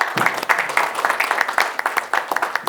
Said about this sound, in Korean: 이사장님 큰 박수를 모시겠습니다.